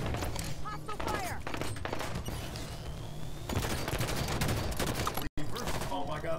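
Assault rifle fire in a video game shootout, rapid bursts of shots crackling steadily through the clip with explosive hits and game effects layered over a busy battle mix.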